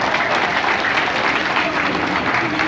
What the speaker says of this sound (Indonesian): Tepuk tangan untuk kawan-kawan semua.